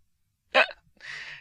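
A person imitates a hiccup: one sharp, abrupt gulping catch of breath, followed by a short breathy exhale, close and alone in a quiet room.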